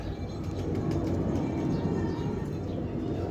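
Pigeons in a loft housing a setup of around ten rare pigeons, a dense layer of low cooing and fluttering bird sounds continuing steadily throughout, close and fairly loud, with no talking.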